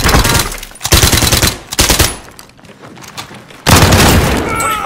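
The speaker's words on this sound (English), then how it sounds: "Throwing flashbang." Sharp concussive blasts from a flashbang and surrounding gunfire in Warzone, loud close bursts with a lull in the middle before another heavy burst, under game noise and voices.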